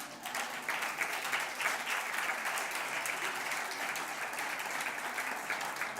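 Sustained applause from a church congregation, steady and fairly loud throughout, with no voices standing out.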